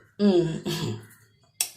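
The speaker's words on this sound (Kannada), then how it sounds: "ಸ್ವಲ್ಪ ಕೆಮ್ಮು ಬರ್ತಿದೆ" A few short, harsh coughing bursts from one person: two voiced, rasping coughs close together near the start, then a sharper single cough after a brief pause, close and fairly loud in a quiet room.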